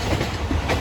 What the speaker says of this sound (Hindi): और भाई ट्रेन ने हल्का सा एक्सीलरेट किया है